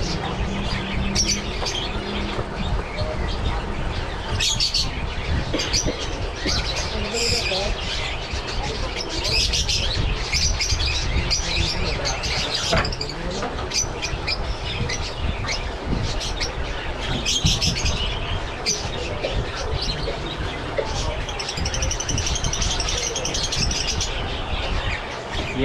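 Lovebirds for sale chirp and squawk in short, scattered bursts amid a busy, noisy background, their calls repeating irregularly throughout.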